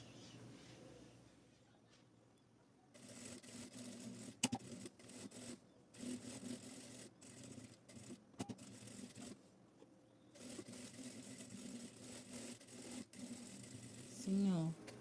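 Sewing machine stitching backpack lining along the edge in pink and lilac fabric, quiet bursts of rapid stitching with short pauses between them, under a woman's speech.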